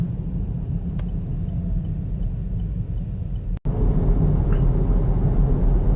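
Steady low road rumble and engine drone from a V8 Chevrolet Camaro LT1 rental car merging onto a freeway, continuous and close with a brief dropout near the middle, no talking.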